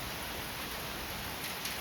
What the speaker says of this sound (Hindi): इतना बारिश हुआ फिर भी अभी भी बारिश हो रहा है